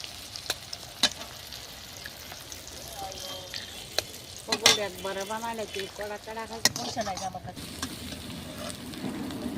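An egg hits a hot pan with tomatoes, onions and salt for chowmein, bursting into a crackling sizzle amid scattered clicks and stirring, while a voice speaks over the frying.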